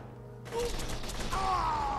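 Rapid burst of gunfire in the video game Borderlands 2, a dense fast volley close up over the game's background noise.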